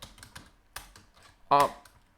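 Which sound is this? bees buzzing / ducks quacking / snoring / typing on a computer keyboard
typing on a computer keyboard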